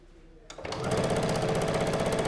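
A Bernina sewing machine stitches a zigzag on fabric. It whirs up after a quiet moment, then settles into a loud, close, rapid and steady mechanical chatter with no voices.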